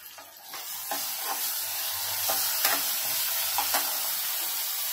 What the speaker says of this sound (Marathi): आता इथे टोमॅटो टाकते।